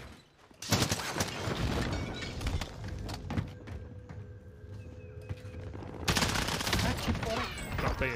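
Rapid bursts of automatic gunfire and scattered shots ring out in a Call of Duty Warzone match, loud and dense at the start and end with quieter firing between, while a player briefly speaks.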